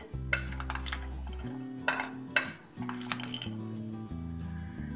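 Dry dates being stirred into a Russian salad in a bowl, a few soft clinks and scrapes of a spoon against the dish over a steady background hum, close and quiet.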